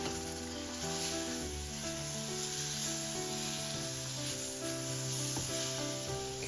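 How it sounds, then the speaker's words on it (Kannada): Fried apple pieces stirred into semolina ksheera in a pan over low flame, a soft continuous sizzle with gentle stirring, while music plays throughout. "ಇವಾಗ ಆ್ಯಪಲ್ ಫ್ರೈ ಮಾಡಿ ಇಟ್ಕೊಂಡಿದ್ವಲ್ಲ ಅದನ್ನ ಆ್ಯಡ್ ಮಾಡಿಕೊಂಡು ನೀಟಾಗಿ ಮಿಕ್ಸ್ ಮಾಡ್ಕೊಳ್ಳೋಣ."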